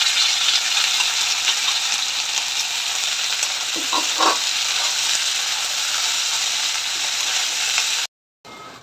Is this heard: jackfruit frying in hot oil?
yes